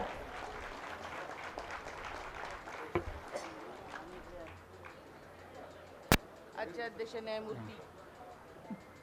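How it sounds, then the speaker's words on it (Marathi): A crowd applauds with steady clapping that fades out, followed by someone speaking. "एकदा जोरदार टाळ्या."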